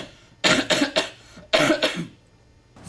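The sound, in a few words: coughing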